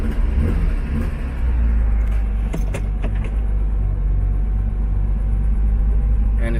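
A Porsche 911 engine catches and settles into a loud, deep, steady idle rumble, with a few sharp clicks and key jingles early on.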